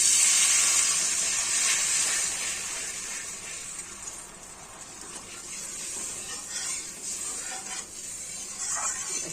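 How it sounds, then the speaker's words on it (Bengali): Water poured into a pan of fried fish curry sets off a loud, steady steaming hiss and sizzle that eases slightly and then swells again, with faint stirring underneath. "এবার আমি জল দিয়ে দিচ্ছি।"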